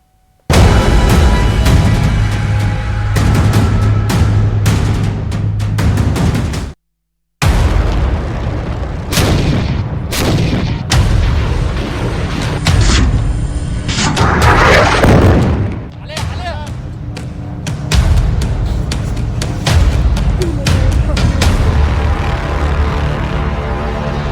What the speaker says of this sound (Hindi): ये बारूदी तांडव इजराइल दिखा रहा है।